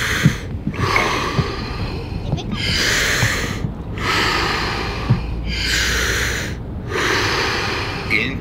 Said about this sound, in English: Breathe in, breathe out. Go with the flow of the breath.